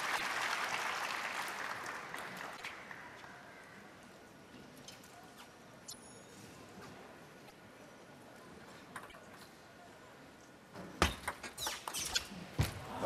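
A table tennis crowd at a men's singles final applauds, a broad wash of clapping that fades away, followed by sharp nearby clicks and knocks toward the end.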